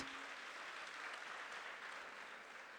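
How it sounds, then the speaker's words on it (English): Steady, even applause from a Career Expo audience for the Dean as he takes his seat, a continuous wash of clapping at moderate, slightly distant level with no voices. "A round of applause once again for the Dean as he takes his seat"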